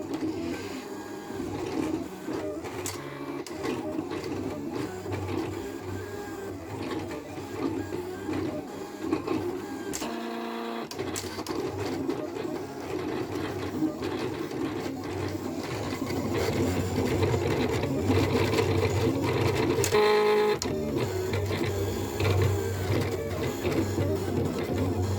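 A Silhouette cutting machine cuts on a Pixscan mat with a continuous whirring, buzzing mechanical drone, punctuated by stepping motor movements and short pauses, heard close and steady throughout.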